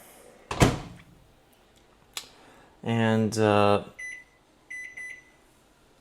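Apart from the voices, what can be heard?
microwave oven door closing and beeping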